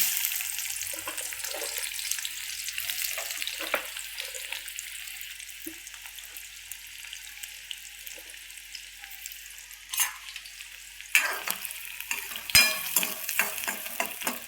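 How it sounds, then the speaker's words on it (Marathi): Onion fries in oil over low heat, making a steady high sizzle with occasional stirring clicks and scrapes that grow louder and busier toward the end. "चांगला कांदा भाजून घ्यायचा."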